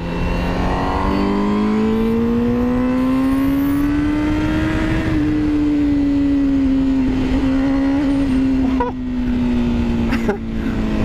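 A 2020 Honda CBR1000RR-R SP superbike, 217 hp, accelerating in track mode: a loud, close engine note climbing steadily in pitch, briefly dipping on a shift, then holding a high howl with faint voices beneath.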